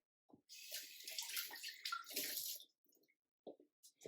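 Water poured from a tap or jug into udon noodle dough in a bowl, a steady splashing pour lasting about two seconds, followed by a few brief softer trickles and taps, close by with no talk.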